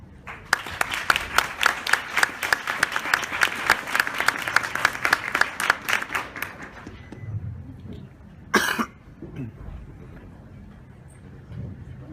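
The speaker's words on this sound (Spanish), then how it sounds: "yo agradezco mucho los aplausos anticipados" Lecture audience at a conference clapping loudly for several seconds, the applause thinning and stopping, followed by scattered coughs and throat clearing in the quiet hall.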